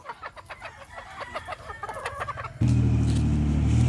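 White Kelso chickens cluck in a rapid, busy chatter for a few seconds, and then a loud, steady engine drone cuts in and covers them.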